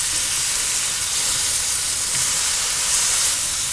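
Scallops sizzling on a hot Kamado Joe grill just after flipping, a loud, steady, close frying hiss that holds evenly throughout.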